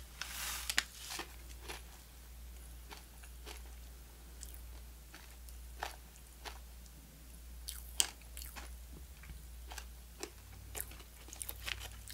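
Pop rocks candy with a slight heat is chewed, giving faint, scattered crackles and soft crunches with quiet mouth sounds between them, close and low.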